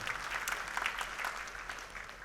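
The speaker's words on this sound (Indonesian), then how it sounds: "Tepuk tangan buat Tuhan kita." A church congregation at an Indonesian service claps together, a soft, steady patter of many hands heard from a little distance without any talk over it.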